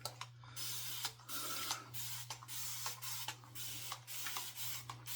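Repeated pumps of a spray bottle during a wet-shaving routine with a Gem Micromatic safety razor, about seven or eight short hissing bursts at a fairly even pace, close and fairly quiet over a steady low electrical hum.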